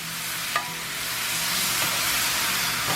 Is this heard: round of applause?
no